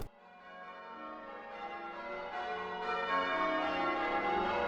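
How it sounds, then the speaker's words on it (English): Church bells ring from the top of a tower, a steady layered peal of overlapping tones that swells gradually and sounds moderately distant, with no voices. "the sound of the church's bells filled their ears"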